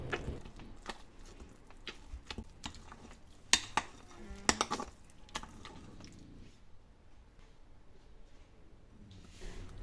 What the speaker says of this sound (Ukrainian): вливаємо олію і вмішуємо її в тісто